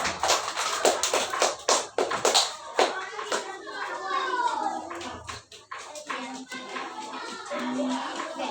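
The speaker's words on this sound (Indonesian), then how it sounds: "Tepuk tangan dulu." Children in a classroom clap hands in a rhythmic group pattern of sharp bursts, followed by softer shuffling and young voices speaking.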